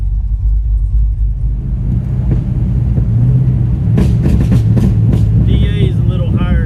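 A Chevrolet S10 drag car on a hard tire makes a run: loud, steady engine rumble throughout, swelling stronger in the second half with scattered sharper bursts and a rising whine near the end.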